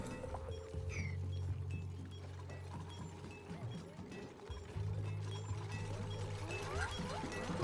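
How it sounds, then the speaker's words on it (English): Chiseling in the video game Oxygen Not Included, heard as repeated metallic ticks and scraping clinks over a humming base drone, with a low tonal loop starting, stopping and resuming. "Oh, it's chiseling. I was wondering what that sound was."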